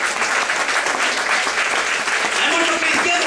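Church congregation applauding during a pastor's sermon, a steady, dense wash of clapping that holds throughout with a faint murmur of voices mixed in.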